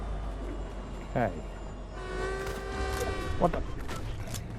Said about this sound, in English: Oh, the train's just about to go by.